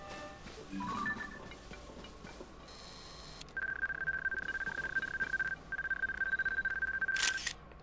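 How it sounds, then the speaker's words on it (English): A camera shutter in The Legend of Zelda: Tears of the Kingdom clicks mechanically, followed by a steady electronic tone and a second sharp click near the end. "Take a picture for the compendium."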